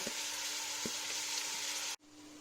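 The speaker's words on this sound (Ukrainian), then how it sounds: "розігріту буду класти цибульку жарити." Chopped onions sizzle steadily in hot oil in a cooking pot, a dense close frying hiss with a couple of faint knocks, cutting off abruptly near the end.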